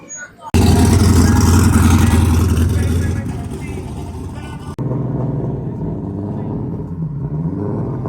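Several cars rev hard and accelerate away at a backyard car meet, a loud close engine roar bursting in and then easing to a steadier drone, with crowd voices talking underneath.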